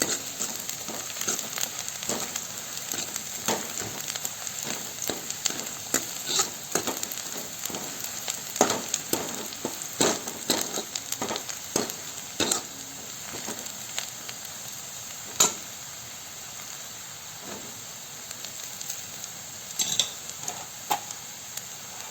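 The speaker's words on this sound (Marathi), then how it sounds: "छोटा एक चमचा जिरे घालते मी आणि मोहरी एक छोटा चम्मच आणि पुन्हा असं ढवळत ठेवते" Cumin and mustard seeds fry in hot oil with a faint crackle and sizzle, while a spoon stirs and scrapes the pan in repeated irregular clicks and taps, close and fairly quiet throughout.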